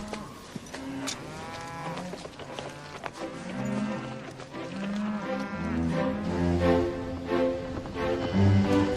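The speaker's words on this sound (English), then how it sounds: "The cows got away from me." A herd of cattle mooing, several overlapping drawn-out lowing calls that build and grow louder toward the end, close by with faint hoof or movement noise and no talking.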